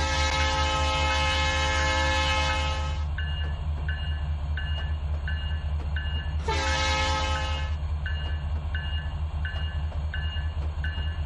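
Locomotive horn in the railroad simulator Trainz 2019, two loud sustained blasts separated by a pause, over a constant low engine rumble and a rhythmic repeating ring from the cab.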